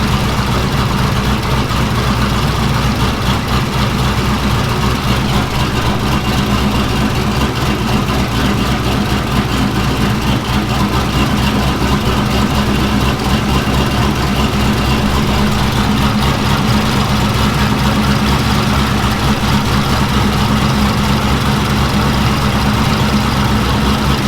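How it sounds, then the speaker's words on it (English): A big-cam LS V8 idles loudly and close with a misfire, its lumpy, uneven rumble steady and unbroken throughout. "So I'm going to fire it back up real quick."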